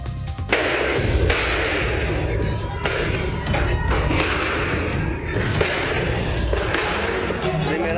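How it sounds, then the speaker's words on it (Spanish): Chaotic street riot with gunshots and fireworks fired toward people: heavy, continuous roaring noise broken by repeated loud thumps and bangs, with indistinct shouting voices mixed throughout. "Disparos, lanzamiento de fuegos artificiales en contra de personas"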